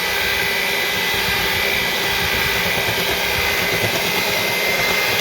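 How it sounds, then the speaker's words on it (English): An electric hand mixer runs on low while mixing Betty Crocker rainbow chip cupcake batter. It gives a steady, close, continuous whirring hum with no pauses and no talk. "I'm gonna go ahead and put it on low. And just mix it up, get it nice and creamy."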